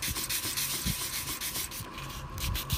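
Sandpaper rubbed back and forth over a cast epoxy LED lamp, working through progressively finer grits; a steady, close scratching with uneven strokes and no talking.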